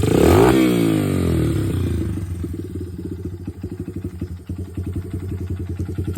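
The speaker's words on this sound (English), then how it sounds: "there's a little bog when I give it acceleration real fast. But if I lay into it," A 2007 Honda CRF80 dirt bike engine revs loud and close, its pitch sliding downward from a high rev, then settling into a rapid, pulsing, uneven throb with rhythmic revving, with no talk.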